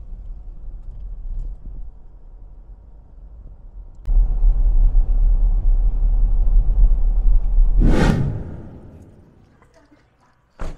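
A first-generation Toyota Kijang Innova V automatic with the 2KD diesel engine drives past, a low engine rumble that swells suddenly, holds steady, then fades off with a brief rushing pass near the end.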